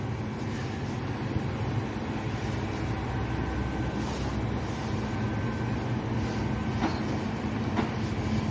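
A high-speed rail project train at Tegalluar rumbles steadily past, with a low, continuous rolling drone and faint metallic clanks, and no voices heard.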